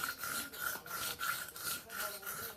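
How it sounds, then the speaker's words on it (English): A knife blade rasps back and forth across a whetstone in steady, rhythmic strokes, close and fairly quiet, about five passes in a row. "sharpening on stone"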